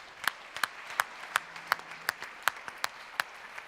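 Sparse clapping from an audience after a startup pitch competition, irregular single claps spaced about a third of a second apart, fairly close in an indoor hall, with no voices.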